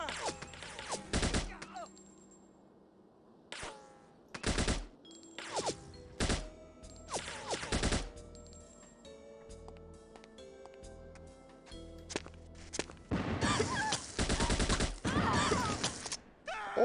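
Sparse bursts of gunfire from the stealth video game No One Lives Forever, played on hard: short sharp volleys separated by quieter stretches, with a longer sustained burst near the end, over faint game background sound.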